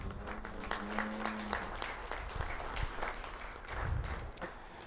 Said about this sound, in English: give these individuals a big round of applause